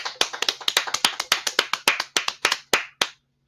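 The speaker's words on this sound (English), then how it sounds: "Let's give him a round of applause" One pair of hands claps about twenty times in a quick, steady rhythm, close and crisp, then stops abruptly.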